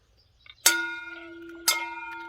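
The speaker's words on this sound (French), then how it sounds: "Une petite cloche." A small bell on a golf course in Neuchâtel, Switzerland, rings twice about a second apart, each strike bright and close with a ringing tone that decays slowly.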